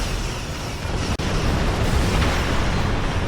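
Torpedo explosions in the Star Trek Online space combat game, a sustained loud rumbling roar of blasts that fills the whole clip with only a brief cut, and no talking.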